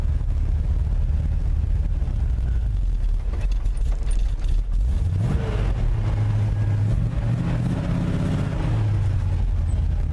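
A 1958 Chevy Napco 4x4 truck pulls off and drives forward with a low, steady engine rumble, rising in pitch midway as it moves off, fairly close throughout.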